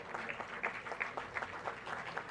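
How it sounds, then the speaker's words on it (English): A seated audience at a maritime leaders' dialogue on green and digital corridors applauds the dignitaries, with sparse, distinct claps from a modest crowd, fairly soft and somewhat distant. "Let's have a huge round of applause for our esteemed dignitaries here."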